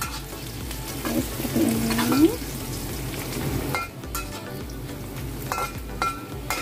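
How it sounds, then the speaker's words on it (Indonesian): Dried shrimp sautéing with shallot, garlic and ginger in hot oil, a steady close sizzle with a few stirring scrapes and a brief spoken remark. "Epinya ini udah tumis sampai harum ya"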